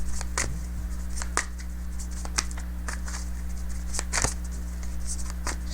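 Tarot cards are shuffled close by in repeated soft riffling and slapping bursts over a steady low indoor hum.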